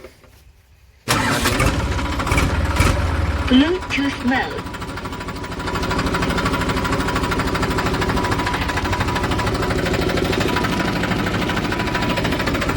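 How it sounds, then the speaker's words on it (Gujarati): A New Holland 3230 tractor on a farm cranks over and its diesel engine catches, then runs loud and steady nearby, with a voice speaking briefly over the start. "ટ્રેક્ટરને ચાલુ કરી દઈ"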